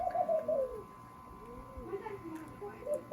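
Pigeons coo repeatedly while being fed by a child at home, soft rolling calls recurring through the clip over faint background sound.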